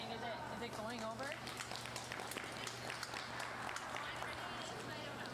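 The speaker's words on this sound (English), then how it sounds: "That applause you hear is for the U18 game happening out on sheet 5." Applause from a U18 curling game on sheet 5 at a Best of the West curling event, steady crowd clapping heard from a distance across the arena with voices murmuring throughout.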